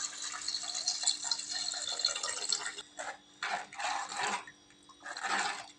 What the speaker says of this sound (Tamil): இப்போ நம்ம புளி தண்ணி சேர்த்துக்கலாம்